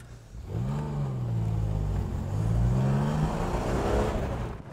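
A Ford Capri drives on a race track, its engine note rising and falling loudly and close as it accelerates through the gears, with no voices.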